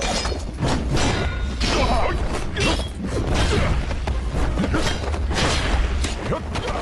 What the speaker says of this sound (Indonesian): Lindong menciptakan sebuah ledakan sebagai pengalihan agar ia bisa melarikan diri.